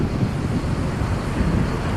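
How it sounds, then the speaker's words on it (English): Steady, rushing wind in Paphos, Cyprus buffets the microphone in a low roar that swells slightly in gusts, continuous throughout with no voices. "the occasional gust of wind"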